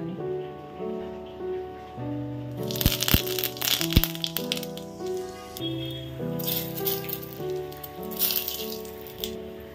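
Cardamom, cinnamon and shahi cumin crackle in hot oil with sharp pops and a bursty rattling sizzle, close by, over steady background music.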